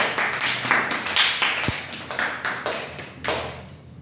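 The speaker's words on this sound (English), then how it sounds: "Claps for Kartikeya." A small class gives a student a round of applause, heard as a steady run of crisp, evenly spaced claps that fade slightly toward the end, with no voices over them.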